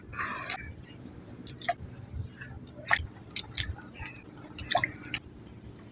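Washed pieces of elephant foot yam (ol) dropped by hand into water in a kadai, making a scattered series of small, close plops and clicks at irregular intervals, fairly quiet.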